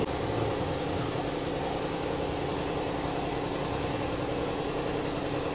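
A steady, droning motor hum runs continuously at an even level, with a low rumble and no talking or other changes.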